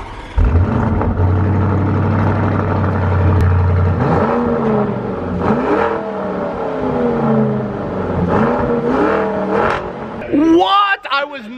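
A 2019 Lamborghini Urus SUV engine, loud and close, holding a steady idle before repeated sharp revs that rise and fall in pitch, ending with a burbling blip.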